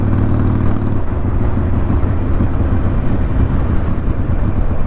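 Motorcycle out on its first ride of the season, a steady close engine drone with road and wind rumble throughout, no talking.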